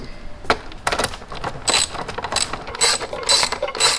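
Quick ratcheting clicks from a ratchet tightening the licence plate light bolts on a Honda Grom, several short bursts of rapid pawl ticks close up.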